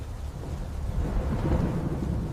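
Thunder rumbles heavily beneath steady, hard-falling rain, a dense continuous roar that swells louder in the second half with no voices.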